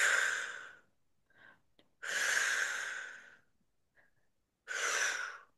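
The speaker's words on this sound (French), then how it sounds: "On souffle quand on tend les jambes, on inspire en les fléchissant." Deep, breathy exhales and inhales during a beginner yoga flexibility exercise come in long, close, loud breaths separated by short pauses with faint lighter breaths, and no talking.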